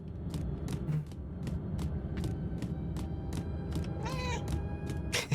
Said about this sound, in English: I love the fact that I can meow.